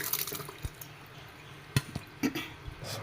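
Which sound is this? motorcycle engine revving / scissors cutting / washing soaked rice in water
washing soaked rice in water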